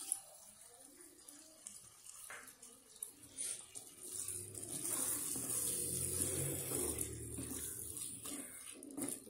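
Water splashes and pours steadily into a cooking pot with kodampuli (Malabar tamarind) for a prawn dish, a rushing, gurgling stream growing louder midway, with faint kitchen clatter around it.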